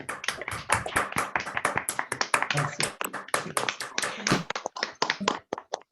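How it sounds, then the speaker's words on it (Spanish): A small online audience applauds through open microphones, scattered claps and taps in uneven bursts that thin out toward the end, with a voice speaking briefly underneath. "si gustan abrimos sus micrófonos para darle un aplauso muy grande"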